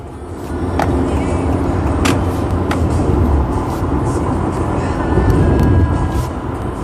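Large trucks pass on a roadside, giving a steady loud rumble of heavy engines and tires with a few sharp knocks and rattles throughout.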